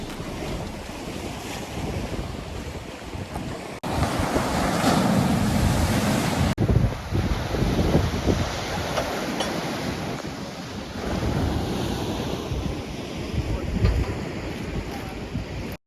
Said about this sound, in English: Crashing waves in the ocean